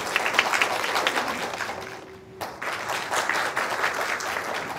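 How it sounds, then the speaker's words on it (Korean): Audience applause at a community sharing event fills the room as a speaker is welcomed, dense steady clapping from many hands that dips briefly and then swells again. "큰 박수로 맞이해주세요."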